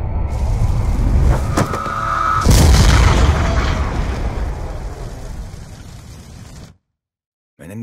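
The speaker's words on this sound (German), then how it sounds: "Menéndez' Schwester Josefina starb bei der Explosion?" An explosion in the video game Call of Duty Black Ops 2 erupts as a sharp, heavy boom over rumbling game noise, then the sound tapers off and drops into brief silence.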